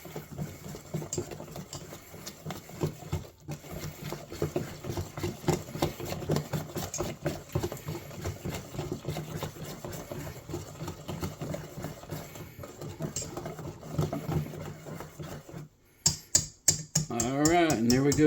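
A spoon works quickly through an egg breakfast casserole mixture, making a long run of rapid, even clicking and scraping strokes at close range, with a few sharper knocks near the end.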